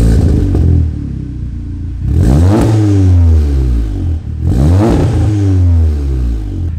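A VW Golf R with a new aftermarket exhaust revs hard twice, each loud rise in pitch falling back toward idle, the engine droning steadily in between with no one talking.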